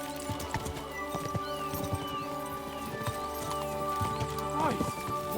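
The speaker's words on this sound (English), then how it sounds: "We should spur the horses on." Horses in the video game Kingdom Come: Deliverance 2 clatter along in a rapid, continuous clip-clop of hooves, with a whinny near the end, heard close under a busy game mix.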